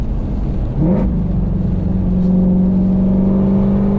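A Ford Mustang GT350's 5.2-liter Voodoo V8 revs up quickly, then settles into a steady, loud droning hum up close, with no voices over it.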